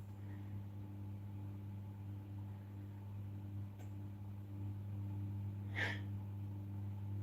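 A single short, sharp sneeze bursts out near the end over a steady low appliance hum in a quiet room.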